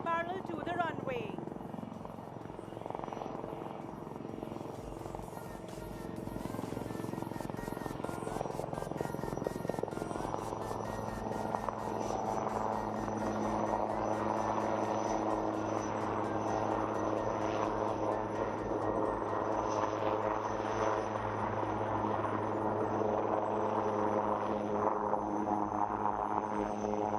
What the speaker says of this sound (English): The helicopter will now perform some sideward movement parallel to the runway.